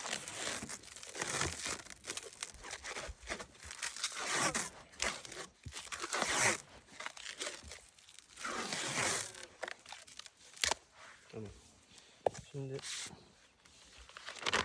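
A walnut graft is wrapped with a stretchy plastic strip, giving crinkling, rustling crackles in irregular bursts close up, while someone talks throughout.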